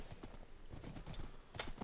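Hooves of a horse in Minecraft clip-clop rapidly and steadily in a galloping rhythm, loud and close throughout the short stretch.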